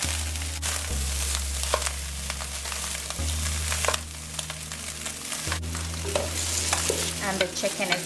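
Chicken for fried rice sizzles and crackles steadily in a hot pan close by, with occasional scraping and stirring, under a constant low hum.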